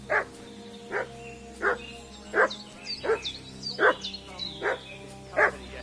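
A dog barks in the Kingdom Come: Deliverance 2 video game, about eight sharp barks at a steady rhythm, moderately close and standing alone over a quiet outdoor background.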